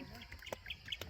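Birds chirping outdoors in the hills of Catigan, Davao, near the sea: faint, scattered high tweets over a soft, steady background hiss, with a murmur of distant voices.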